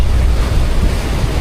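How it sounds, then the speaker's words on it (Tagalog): Ocean waves five to six feet high breaking on the open Pacific about 100 nautical miles out near an island, heard from a boat as a loud, constant roar of surf mixed with heavy wind buffeting. "namamasag yung ano, alon ng dagat"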